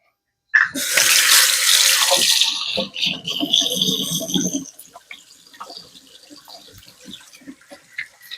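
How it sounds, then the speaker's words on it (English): A kitchen tap turned on to wash hands while making a school-style pizza, water gushing loudly into the sink, then splashing over hands more unevenly before tapering to softer trickles and small clinks. "I'm going to wash my hands while you do that."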